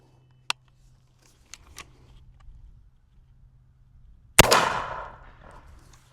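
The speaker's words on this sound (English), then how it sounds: "So I'm gonna shoot one time, let's see what happens." A single 12-gauge shotgun blast of buckshot at a target 20 yards away cracks loudly and decays over about a second, preceded by a few sharp clicks of handling in an otherwise quiet outdoor setting.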